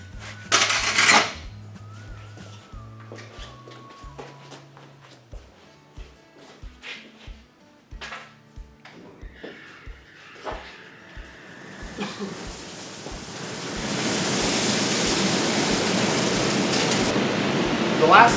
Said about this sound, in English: as we run a board through the drum sander